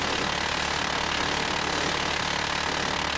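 Rapid, continuous minigun fire from a helicopter-style gun in the video game Call of Duty: Ghosts, a dense, loud, unbroken mechanical roar lasting throughout with no talk over it.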